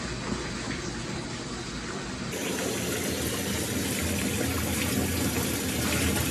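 Bath water pours from a tap into a bathtub, a continuous close rushing splash that grows fuller and louder partway through and holds steady, with no talking.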